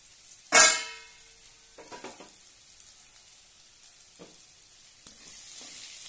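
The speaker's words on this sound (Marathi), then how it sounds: "आता यावर झाकण ठेवून थोडा वेळ शिजवून घेऊया।" Potatoes cook in a covered pan, starting with a loud clank as the lid goes on, followed by a faint, soft sizzle with occasional small taps and clicks.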